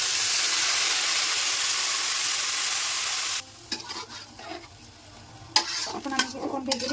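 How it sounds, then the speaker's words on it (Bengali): Vermicelli (semai) in a hot pan gives off a loud, steady sizzle, then it abruptly drops to quieter sizzling broken by sharp spoon scrapes and clinks of stirring against the pan. "এখন আমি কিছুক্ষণ ভেজে দেবো।"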